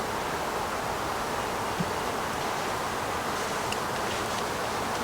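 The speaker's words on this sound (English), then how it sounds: "I got a lot of bees." A dense, steady hum of many bees buzzing around a swarm trap, heard close from a step ladder as a continuous broadband drone with faint ticks.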